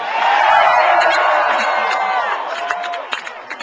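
A fired-up crowd at a Sacramento Tea Party rally cheering and whooping, a dense wash of voices and rising shouts that thins toward the end into scattered claps and calls.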